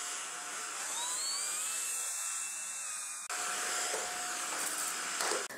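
A Corvan K9 Pro cordless vacuum cleaner runs over a shaggy carpet with a steady, close high-pitched motor whine. The tone shifts slightly as it moves, and no one speaks.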